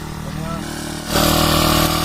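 A grass cutter machine's small engine runs with a buzzy, even drone and surges louder about halfway through as the throttle opens, with voices talking over it.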